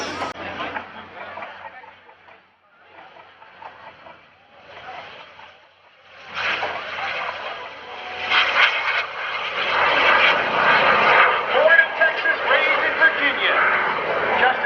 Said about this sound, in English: That is a jet, a microjet, ladies and gentlemen.